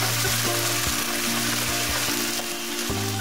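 Spices, ginger, garlic and shallots sautéing in hot oil in a pan, a loud continuous sizzle with faint stirring scrapes over a low electrical hum, no speech.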